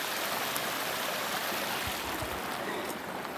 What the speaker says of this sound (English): We just crossed the river here.